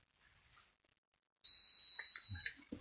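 A van-mounted power inverter being switched on gives one sustained high electronic beep lasting about a second, clear against quiet background rustle.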